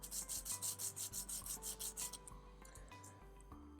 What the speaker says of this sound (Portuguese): o processo é você pegar uma lixa fina de 120 ou até 200 e num movimento único para a esquerda e para a direita